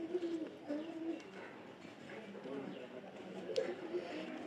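Pigeons coo in a loft where a pair is kept, with low repeated warbling calls at moderate distance and someone talking over them throughout.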